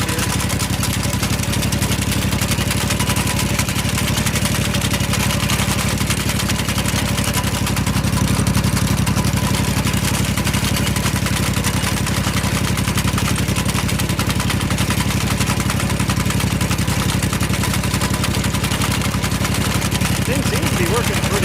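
Simplicity 2210 V-Twin garden tractor running steadily in first gear with a sickle mower attached, a constant loud engine drone with mechanical clatter throughout.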